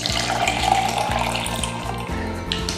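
Water pours steadily into a cup holding a powdered drink mix, roughly 150 ml, making a continuous close splashing and filling sound with no speech.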